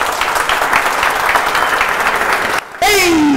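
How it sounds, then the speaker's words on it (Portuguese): Audience applauding a performer returning to the stage at a stand-up comedy event, a loud, sustained wash of clapping that cuts off sharply near the end and is followed by a rising electronic tone. "Senhoras e senhores, vamos aplaudir o nosso boy rigoroso que está de volta à casa."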